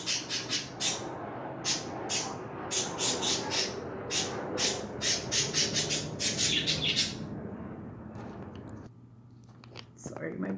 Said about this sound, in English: sorry, my birds get really excited.